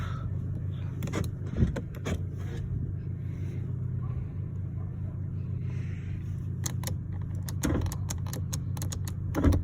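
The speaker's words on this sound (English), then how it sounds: "There we go. Got the window up." Power window motor raising the glass inside a 2002 Chevrolet Impala with the 3.8 engine, a steady low whirring hum lasting several seconds, with scattered light clicks and mechanical knocks close by.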